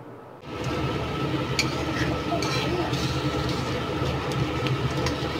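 Fritters (bora) frying in hot oil in a home kitchen, a steady close sizzle and crackle that starts abruptly and continues, with faint clinks of utensils.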